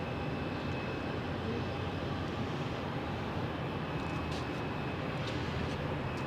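A jet airliner, a Boeing 757 or 777-class widebody at Phoenix Sky Harbor airport, gives off a steady, broad engine roar that holds at constant loudness throughout, with no talking over it.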